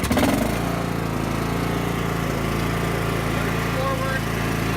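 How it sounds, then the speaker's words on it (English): A Cub Cadet XT1 lawn tractor engine starts with a brief crank and then settles into a steady, loud, close-up running drone. "Start the engine."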